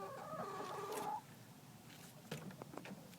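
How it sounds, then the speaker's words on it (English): Chickens in a morning coop cluck and call nearby as they are let out, with a drawn-out crowing-like call at first, then scattered short clucks, fairly faint against a quiet background. "Time to let the chickens out and check on the baby chicks."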